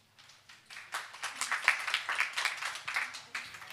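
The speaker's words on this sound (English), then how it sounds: "So a round of applause for them." Small audience at a deep tech accelerator pitch event clapping for a startup team, a short burst of scattered hand claps that swells quickly, then holds at moderate loudness in a modest room.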